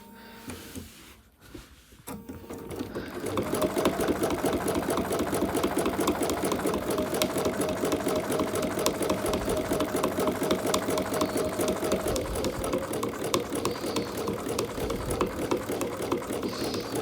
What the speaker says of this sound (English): Go a couple stitches and raise your foot if you need.